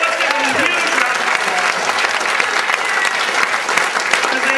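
Steady, dense applause from a comedy club audience at a live stand-up event, loud and sustained for several seconds with no pause or talk over it.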